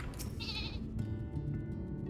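A sheep mount in Final Fantasy XIV gives a single clear, wavering bleat, close and alone over faint game background sound.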